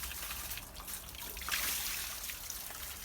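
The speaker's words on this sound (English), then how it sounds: "Water's going to come rushing out, which is fine." Water gushes and splashes steadily out of an opened pool filter during backflushing, a broad, hissing rush that surges briefly louder midway.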